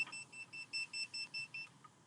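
A restaurant order pager beeps in a steady pulsing pattern, about eight short high electronic tones in quick succession, fairly close and clear with no talking.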